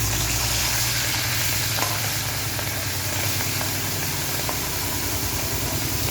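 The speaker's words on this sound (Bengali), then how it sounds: "এবারে মাছগুলোকে ভেজে নেব।" Prawns frying in a pan for a prawn malai curry, a dense, constant loud sizzle with faint scraping and stirring underneath, no voices.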